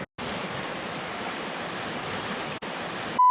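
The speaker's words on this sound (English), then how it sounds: "Okay, that's a big one. Yeah. Huge waterfall there." A huge waterfall on a wilderness river roars as a steady, loud broadband rush, continuous and close, with a brief dropout near the end.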